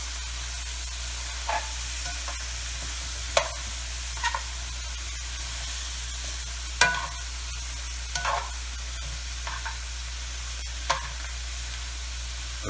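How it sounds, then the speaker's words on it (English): Garlic sautéing in a pan, with a steady soft sizzle over low hum and occasional brief scrapes of a utensil stirring at irregular intervals. "You don't want to fry the garlic. We'll saute it."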